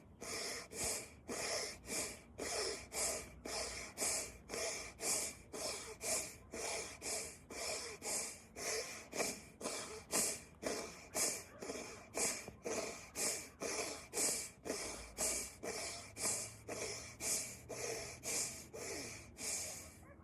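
Outdoors on snow during a morning yoga practice, a person makes forceful, rapid nasal exhalations. The sharp snorting breaths repeat in a steady, even rhythm, about one or two per second, close and loud for the full twenty seconds.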